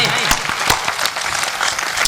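Loud, dense applause from a large crowd at a Hindi poetry gathering in Sujangarh, sustained and steady throughout, with a voice faintly underneath.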